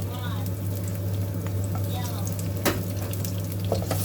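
Garlic sizzles and crackles in hot oil in a pan, a steady frying hiss with occasional clinks of a utensil against the pan.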